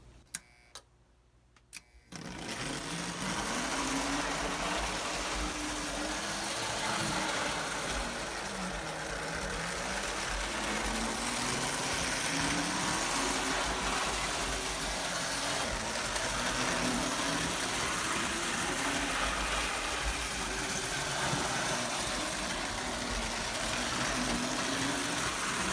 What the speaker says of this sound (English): I'm going to be running my Prewar locomotive around this tree in its place